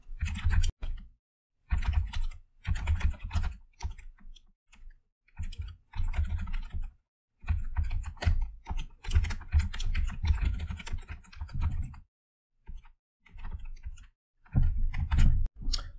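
Close, brisk typing of code on a computer keyboard comes in bursts of rapid clicking separated by short silent pauses, with no voice present.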